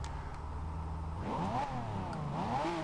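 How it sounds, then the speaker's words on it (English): A 2012 Pagani Huayra engine in Forza Horizon 2 idles with a low steady hum, then revs up and down in rising and falling sweeps, close and fairly loud, no talking. "this car is a lot louder now"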